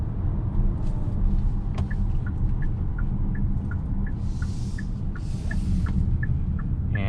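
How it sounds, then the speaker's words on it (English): Cabin of a 2021 Hyundai Santa Fe Hybrid on the move: a low, steady road rumble fills the interior while a soft, regular ticking, like a turn signal, repeats throughout. "it's nice and quiet. There is barely any road noise."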